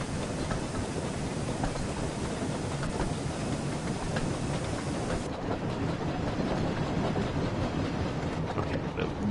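A train runs on rails in the Wonders of Sodor video game, with a steady rumbling roll and faint rhythmic clicks of wheels over track joints continuing throughout.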